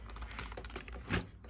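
Quiet, steady typing on an external computer keyboard plugged into a Dell 7370 laptop, with soft rapid keystrokes and a slightly louder cluster near the end.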